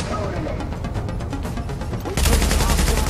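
Gunfire in the video game The Division, a dense run of rapid shots that grows louder and heavier near the end, mixed with people talking.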